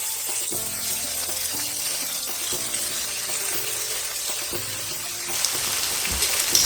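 Slices of meat for sukiyaki sizzle in hot oil in a pan, a soft, continuous crackle with occasional sharper pops, growing a little louder toward the end, with no talking.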